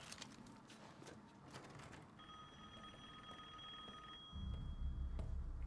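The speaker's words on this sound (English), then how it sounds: "I hear a phone ringing." In the horror game Resident Evil Village, an old-style telephone rings with a steady electronic trill over dim ambient sounds, fairly faint, before a louder low rumble takes over.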